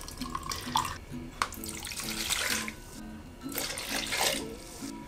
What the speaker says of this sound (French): Je vais commencer par y mettre mon vinaigre.